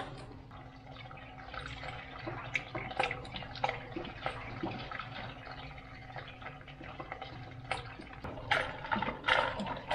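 Water poured from a plastic jug into the radiator of a 1959 Apache truck, a steady splashing gurgle at moderate distance with no talking.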